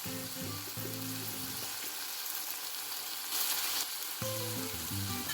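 Turmeric and garam masala fry in a pan, a steady close sizzle with a brief burst of louder hissing midway, while tonal musical sounds play in the background at the start and end.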